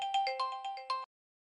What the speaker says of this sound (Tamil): தத்தி கால் பண்றா.